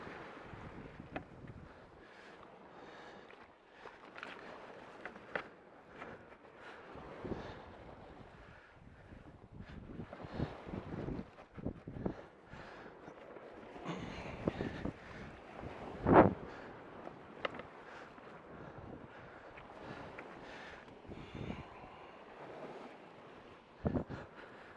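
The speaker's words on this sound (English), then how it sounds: "So you got some waves coming in." Waves wash and slap around an inflatable Sea Eagle SMB124 boat on Puget Sound, an irregular churning of water under steady wind buffeting the microphone, with one sharper splash partway through and no talk.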